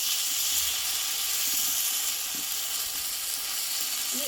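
Thick potato and wheat-flour batter goes into hot oil in a wok, a continuous even sizzling hiss that stays close and steady throughout, with no voices.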